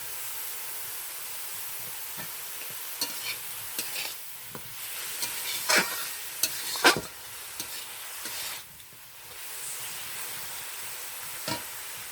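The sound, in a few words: spice paste and tomatoes being sautéed and stirred in a pan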